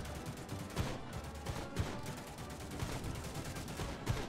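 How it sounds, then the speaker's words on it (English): Machine gun fire in the game Little Toy Soldiers, quieter rattling bursts repeating through the scene with a few sharper thumps standing out, set against busy game noise. "Who's got the fucking machine gun?"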